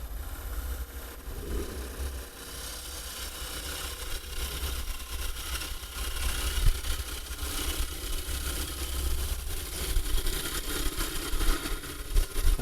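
A wood lathe turning a bowl while the gouge smooths the inside curve, giving a steady broadband whir and rumble with faint scraping, continuous and fairly loud with no talk.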